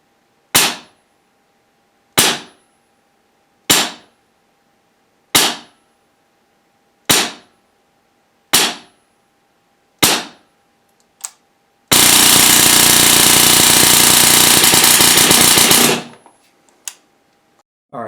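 A Wolverine Storm regulator paintball marker fires eight sharp single shots at a steady interval, then lets loose a dense, continuous auto burst of about four seconds, followed by a few stray pops, all close and loud.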